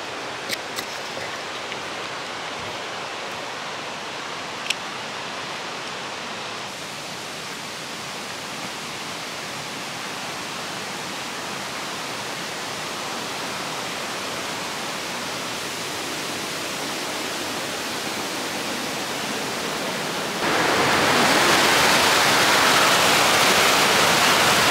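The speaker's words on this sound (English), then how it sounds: "You can see the waterfalls." Bog River Falls pouring into Tupper Lake in the Adirondack woods, a steady broad rush of falling water that grows louder and closer toward the end, with no voices.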